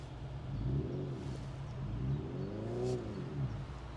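A Hyundai Ioniq 5 N electric car plays its synthetic engine sound at low volume, with three rising and falling rev-like sweeps over a few seconds.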